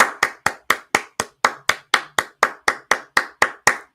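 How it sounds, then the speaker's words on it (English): Steady, close hand clapping, about fifteen sharp even claps in a row at a brisk, regular pace, with no talk over it. "Oh, I was wondering what we're clapping for."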